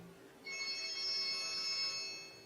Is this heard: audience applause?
no